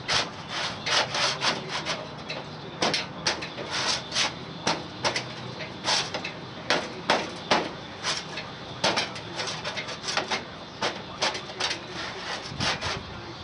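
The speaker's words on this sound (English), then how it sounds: "I've taken just basically a cement trowel, is what I'm using, and I'm breaking loose the joint all the way around the hood" A cement trowel is worked around the glue joint of a 2010 HD truck hood, making repeated close scraping and cracking strokes in an irregular rhythm, loud and steady with no talking.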